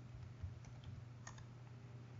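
Quiet keystrokes tap on a computer keyboard as a command is entered, a few scattered soft clicks close by over a faint steady hum, with nobody speaking.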